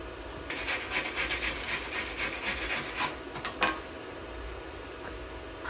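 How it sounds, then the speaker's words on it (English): Wire brush scrubbing a freshly laid first-pass flux core weld from a budget Bestarc MIG145 welder, a close, steady scratchy rasp of repeated strokes that runs for several seconds before easing off. "We hit that with a wire brush."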